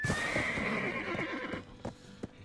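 A horse in the video game Black Desert neighs in a long, loud whinny, followed by a few scattered hoof clops as it moves.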